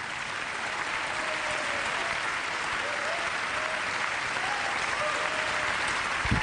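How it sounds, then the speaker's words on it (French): A crowd at a national Talents des Cités event applauds, dense sustained clapping at an even level throughout, with faint voices mixed in. "je vous demande d'applaudir Fatoumata Sidibé et Djenaba Diao."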